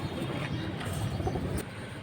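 Pigeons, medium-sized khaki and chila breeds kept for sale, coo in low soft murmurs against a dense background bustle, with no talking.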